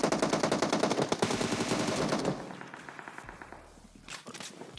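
Automatic gunfire in the PUBG Mobile video game: loud, rapid bursts of shots for about two seconds, then fainter scattered shots and thumps further off.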